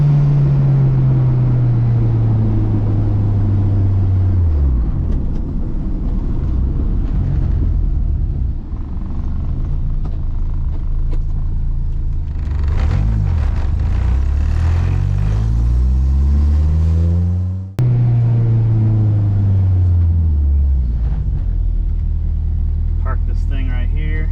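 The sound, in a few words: Honda car engine with VTEC driving, B or K series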